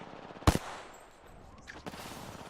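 Gunfire in a shooter video game: one sharp, loud shot near the start, then a quieter second burst toward the end, with faint game ambience in between.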